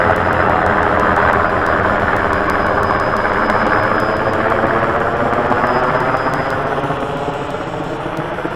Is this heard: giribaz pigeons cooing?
no